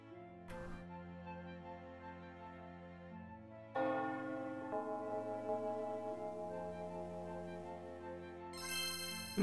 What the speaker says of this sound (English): And there we go, ring my bell,